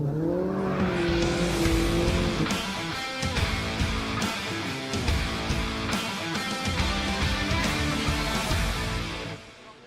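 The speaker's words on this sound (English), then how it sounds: "cars leave the assembly area for our second Formula Ford race of the day" Formula Ford race cars pull away from the assembly area at Oulton Park, engines revving and droning in a dense overlapping mix of several cars. A brief tire squeal cuts through before the sound fades at the end.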